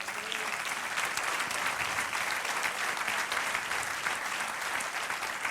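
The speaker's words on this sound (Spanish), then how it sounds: "Den aplausos al Señor." A church congregation applauding, sustained loud clapping from many hands that stays continuous and even from start to finish.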